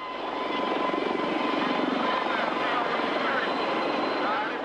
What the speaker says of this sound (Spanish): Ceausescu huyó en helicóptero.